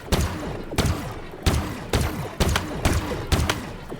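Gunfire from the Halo Infinite video game: about eight sharp, loud bursts at a steady rhythm roughly every half second, each followed by a short ringing tail, with no talk.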